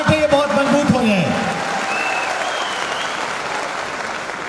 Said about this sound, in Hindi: एक बार तालियां बजा के दिखाएंगे